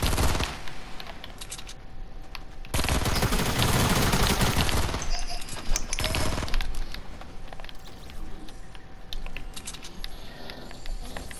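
SMG gunfire in a video game: dense, rapid automatic bursts, with a long sustained loud stretch in the middle and shorter rattling volleys and clicks around it, close and continuous.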